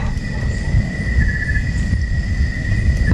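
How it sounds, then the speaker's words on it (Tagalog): Crickets chirp on a rural lot in the Philippines, a steady high trill that carries over a low, rumbling background and continues without pause. "So marinig niyo mga kabos nga yan, mga kuliglig."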